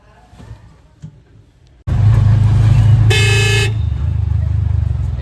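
A daily traffic jam on a road in Diva: after a quiet moment, loud close engine and traffic noise rises abruptly, and a single car horn blares for about half a second while the idling rumble continues.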